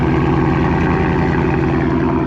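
Supercharged V8 in a Ford Shelby F-150 pickup runs steadily and loudly up close, a continuous engine drone with a faint high supercharger whine, no voices over it.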